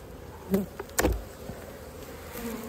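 Honey bees hum softly and continuously around an open hive, a faint swarm buzz with a couple of nearby thumps.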